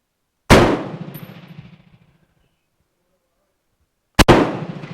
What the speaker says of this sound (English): So I'm shooting the bottom target.